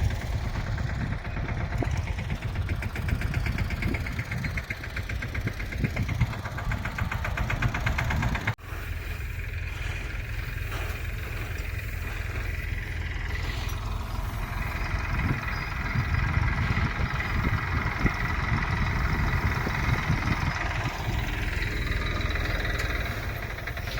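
A tractor's heavy diesel engine runs steadily and loudly throughout during night-time wheat sowing, with a low rumbling drone and a brief dropout partway through.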